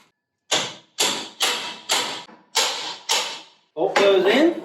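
A bolt is fitted into the hitch of a disc harrow on a compact tractor, with five or six evenly spaced close metallic thuds followed by a final rougher clunk.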